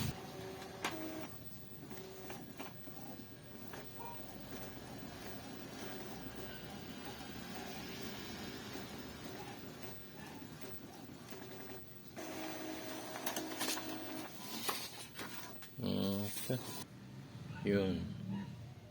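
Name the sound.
Epson L3110 printer printing a page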